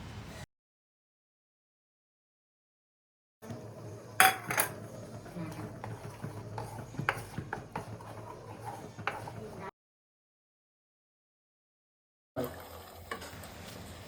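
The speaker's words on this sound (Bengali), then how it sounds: "এরপর আমরা মাশরুমের পেস্টটাকে ভালো করে দিয়ে নাড়িয়ে চাড়িয়ে নেব 3 থেকে 5 মিনিট অবধি।" A pot of garlic and mushroom paste being stirred, with a spoon scraping and clinking against the metal over a soft sizzle, running steadily for several seconds between stretches of silence.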